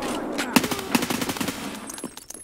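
Gunfire in the video game Escape from Tarkov: a rapid cluster of sharp shots, with two loud cracks standing out, followed by scattered clicks and handling noises.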